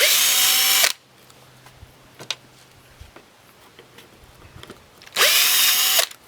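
A power drill unscrews screws from a wooden piece being prepared for sanding, two loud whirring bursts at the start and end separated by quieter clicks and handling taps, close by.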